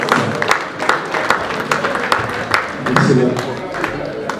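Guests at a wedding celebration clapping together, a sustained round of applause with irregular hand claps and some cheering voices mixed through it, close and lively.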